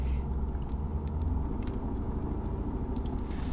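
A stock 2015 Ford Mustang GT with a 5.0 V8 and manual clutch pulls away, giving a steady low engine rumble that holds close and even throughout, with no talk over it.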